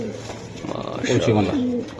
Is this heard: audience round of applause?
no